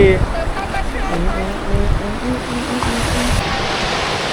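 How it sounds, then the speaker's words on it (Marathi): Sea waves break and wash steadily onto Varsoli beach at Alibag, a loud continuous surf roar with gusty wind across the microphone. "हे लाट आले आमच्यापर्यंत आलीच नाही"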